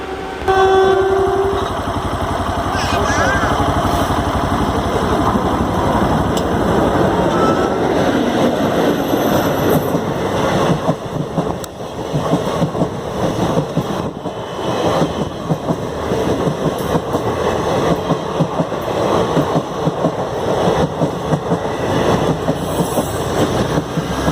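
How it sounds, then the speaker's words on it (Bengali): A train rumbles steadily past a level crossing near Baharampur, India, with a short horn note at the start and a continuous loud rolling, rattling roar that carries through the whole passage. "ট্রেন আসছে মনে হচ্ছে কারণ আমি হর্নের আওয়াজ পেলাম"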